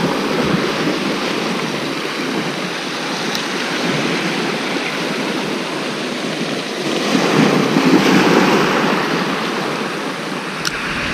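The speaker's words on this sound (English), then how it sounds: "So the wind's picking up now, it's getting quite rough out here." Strong wind buffets the microphone while rough sea waves surge and break along a shore during lure fishing for bass and mackerel at first light, a dense, continuous roar that swells louder near the end.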